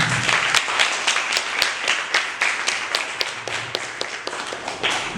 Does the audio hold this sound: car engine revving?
no